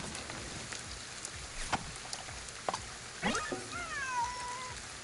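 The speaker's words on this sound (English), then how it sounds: "It's a cat." In Ghostwire Tokyo, a cat gives a few short meows followed by a longer, drawn-out call, all set against steady rainfall in a quiet outdoor scene.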